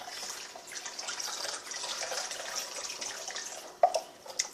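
Water splashes and trickles steadily as cooking water is poured off pinto beans into a sink, with a few sharper drips and clunks near the end.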